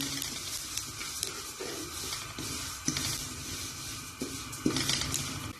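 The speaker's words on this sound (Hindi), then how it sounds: "इस तरह अलसी को भूनते जाना है और तीड़ तीड़ की आवाज भी आएगी" Flaxseed dry-roasting in a pan while a spoon keeps stirring, giving a steady close sizzle with crackles and pops scattered throughout and a few louder scrapes, with no voices.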